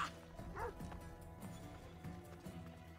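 A dog barks in the video game Assassin's Creed Odyssey, a few faint, muffled barks over a busy game soundscape with footstep-like thuds.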